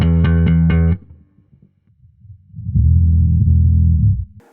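Bass guitar played through a TC Electronic Sub and Up octave pedal set for a near sine-wave tone, giving deep, smooth sustained notes: three repeated plucked notes, a short quiet gap, then a longer held low phrase, loud and close.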